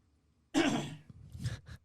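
A single harsh cough bursts out close by after a moment of quiet, followed by a softer throat-clearing rasp.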